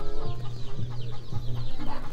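Backyard hen clucking with her chicks beside a freshly laid egg, a series of short rhythmic clucks repeating about four times, close and clear with no talk.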